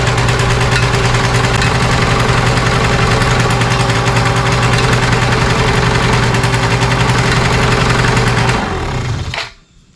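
A small ETon 90cc engine idles loudly with a steady, rapid putter for several seconds, then sputters and dies into near silence at the end.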